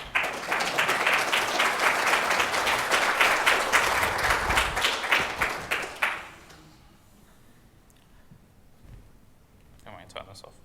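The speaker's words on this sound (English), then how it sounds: "You can clap if you want." An audience applauds after a programming cryptography talk at a conference, a loud, dense burst of clapping lasting about six seconds before dropping abruptly to a quiet room with a few faint noises.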